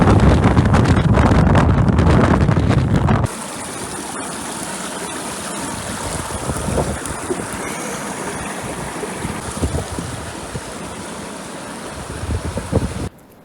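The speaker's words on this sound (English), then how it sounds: "I think the wind is a little bit too strong" Strong wind at Los Glaciares National Park in Patagonia, Argentina, roars and buffets right against the microphone, very loud at first, then drops to a lower but still gusty, rushing blast.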